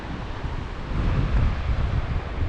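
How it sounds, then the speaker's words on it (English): Water rushing through Box Canyon near Buhl, Idaho: a steady, broad roar of flowing water, continuous and fairly loud, with no voices. "You can hear the water."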